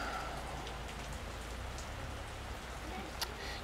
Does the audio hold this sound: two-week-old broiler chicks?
no